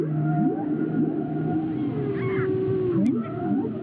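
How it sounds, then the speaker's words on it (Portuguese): Whale calls recorded by an underwater hydrophone in the waters of the Selvagens Islands: sweeping moans and rising and falling tonal cries over a constant low ocean rumble, fairly clear and continuous. "A equipa do Museu da Baleia colocou um hidrofone nas águas das Ilhas Selvagens para monitorizar a presença de cetáceos através do som."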